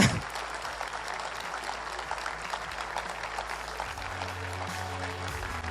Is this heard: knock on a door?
no